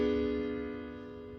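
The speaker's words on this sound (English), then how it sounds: "that is a diminished seventh chord, which sounds like this" A tense diminished seventh chord struck once on a piano, sustained and slowly decaying on its own over about a second and a half.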